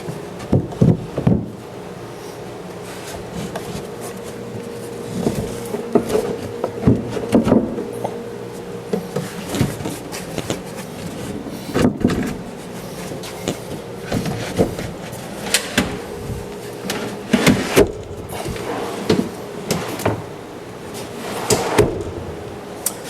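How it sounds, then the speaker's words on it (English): Large wooden drawers in a workshop shop cabinet slide in and out again and again, with scraping runs and hollow wooden knocks and thumps spread over the stretch, fairly close. "I dry fitted that top drawer in on top of the bottom drawer"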